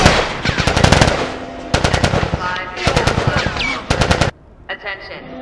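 Rapid automatic gunfire in The Last of Us Part 2, loud close bursts of machine-gun shots in several rhythmic volleys separated by short pauses, ending with a quieter stretch of scattered sounds.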